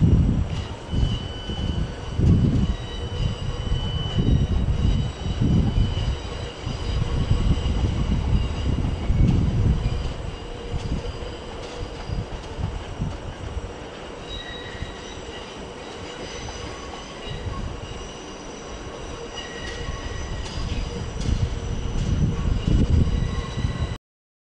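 A pair of Class 458 electric trains at London Waterloo station: a steady, loud rumble of wheels and carriages with squeals from the rails, continuing for the whole span with no voices.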